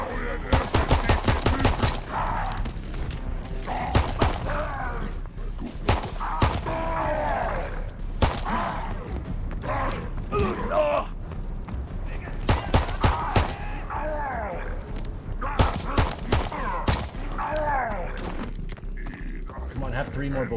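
Gunfire in a zombie video game crackles in sharp bursts and rapid volleys, scattered across the stretch, with a player's voice talking in between.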